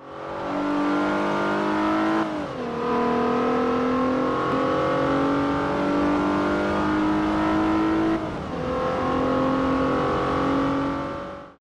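Engine revving loudly and continuously in Forza Motorsport 4, a racing video game, with pitch climbing through gears and two brief drops around shifts; no talk over it.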